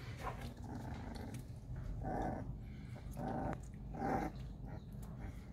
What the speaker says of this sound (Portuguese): Ó, bravinho já, rosnando, tudo gordinho.